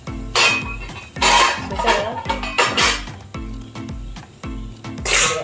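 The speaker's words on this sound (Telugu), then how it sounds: "ఇదిగో ఇలాంటి కన్నాలు గిన్నె దీని మీద పెట్టుకుందాం" A metal perforated bowl is set onto a pot of boiling water, giving a series of close, ringing metallic clanks and scrapes that recur in uneven bursts.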